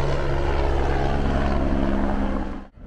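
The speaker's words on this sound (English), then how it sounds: "Here goes the helicopter again." A helicopter flying overhead in Brazil makes a loud, steady engine drone with a constant low hum that fills the air, then cuts off abruptly near the end.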